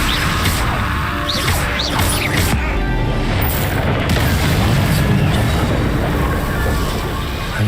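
A fire spell explodes in the video game Hogwarts Legacy, a loud, dense booming roar with crashing debris and rumbling game effects that fill the whole stretch without pause.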